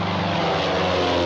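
Droning propeller airplane engine from the film Casablanca, a loud steady low-pitched hum that fills the whole brief moment with no voices over it.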